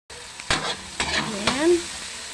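Cabbage sautéing in a pan for ginisa, with three bursts of stirring over a steady sizzle, close and fairly loud.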